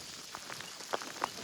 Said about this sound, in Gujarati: હવે અહીંયા સ્નો નહીં પણ કરા પડે છે એકદમ મસ્ત